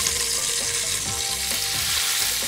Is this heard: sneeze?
no